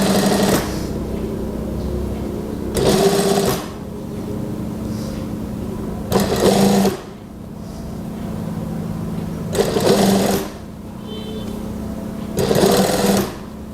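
A sewing machine runs a basting seam on women's trousers, its steady mechanical whir broken by four louder bursts of rapid stitching at regular intervals, close and without talk.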